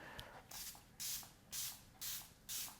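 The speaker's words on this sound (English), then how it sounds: "At the very end, I'm going to use this Tia makeup setting spray" A close spray bottle releases about five short, crisp hissing mists at a steady rhythm, with short quiet pauses between them.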